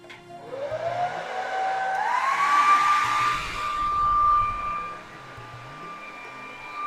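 A hair dryer blows steadily to dry wig glue at the hairline, a loud, close whooshing drone with a whining tone that rises and shifts in pitch as the setting or angle changes.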